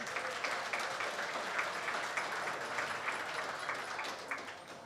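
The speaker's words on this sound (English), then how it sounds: "Give them a round of applause." A pub crowd at a budget politics talk night gives sustained applause, a dense, even wash of clapping heard at some distance and fairly faint, with little else over it.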